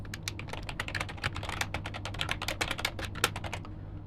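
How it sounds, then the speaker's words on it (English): Rapid, uneven clicks of typing on a computer keyboard, close and crisp, continuing for several seconds before stopping, over a low steady hum with no talking. "if the user were to type project tree,"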